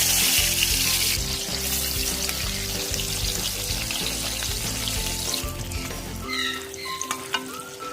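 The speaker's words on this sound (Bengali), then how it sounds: "এবার এক একটা করে আমি ভেজে নেব আমি একটা একটা করে তেলে ছেড়ে দেবো" Stuffed bottle gourd pieces fry in hot oil with a loud, steady, close sizzle and occasional stirring noises. Background music plays underneath, and the frying thins out near the end.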